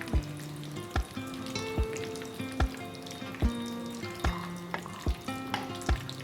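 Brinjal bajji, battered eggplant slices, fry in hot oil with a steady close sizzle and bubbling, broken by several sharp clicks and taps of a utensil at a regular pace.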